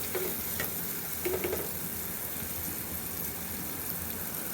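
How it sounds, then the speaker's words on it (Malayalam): Spice powders sizzling in oil in a pan for a chickpea curry, a soft steady hiss with a few brief scrapes of a spoon stirring early on, then an even, quieter sizzle. "പൊടികൾ ചേർക്കുകയാണ് അതൊന്ന് പാകമായി കഴിഞ്ഞ് കഴിയുമ്പോൾ കടല ചേർത്ത് കൊടുക്കാം"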